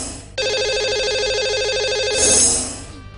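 A telephone ringback tone purrs steadily in repeating pulses as a call is placed to a lucky caller on a Hindi radio show, clear and alone for about two seconds before fading into line noise.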